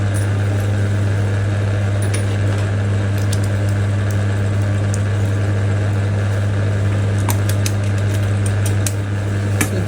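A sewing machine runs steadily along the second side seam of a pencil skirt with an overlap slit, its motor giving a constant, close, even drone for the whole stretch with faint tapping on top and no talk.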